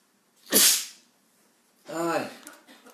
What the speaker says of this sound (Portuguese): Dá licença que eu vou espirrar, gente.